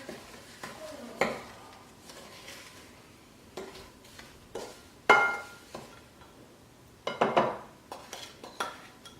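Intermittent scraping and clinking of a utensil against a bowl while mixing sugar and liquid for a strawberry sugar scrub, in irregular bursts with quiet pauses, close by.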